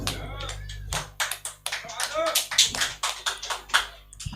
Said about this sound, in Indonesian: Tepuk tangan dulu buat Abuya.